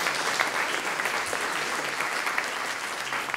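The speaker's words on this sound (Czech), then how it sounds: "Zatleskáme." A crowd at an award ceremony for a short-film competition gives a steady round of applause, dense and even, moderately loud with no speech over it.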